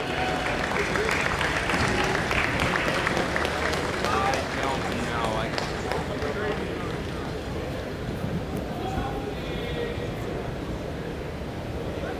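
An arena crowd at a junior lacrosse championship game applauds award winners, sustained clapping and crowd noise that gradually eases, with a voice talking over it through a public address system.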